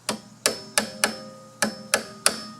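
Gentle hammer taps on a Ford Focus rear brake drum during a drum brake repair: seven sharp, close metallic knocks at an uneven pace, each ringing briefly before the next, with no talking.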